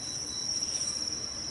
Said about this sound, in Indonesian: itu dia mereka, jangkrik-jangkrik kami yang kami budidayakan.